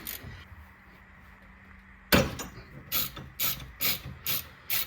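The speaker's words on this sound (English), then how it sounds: "I'm gonna use a ratchet with an extension" A ratchet with an extension loosens the tie rod end on a Mazda 6 2.2 Skyactiv diesel: a sharp metallic clack, then a series of rhythmic ratcheting strokes, close and clear with no talk.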